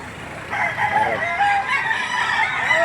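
A rooster crows repeatedly at a Saturday chicken market in Lipa City, Batangas, its long calls standing out clearly over a steady background of market bustle.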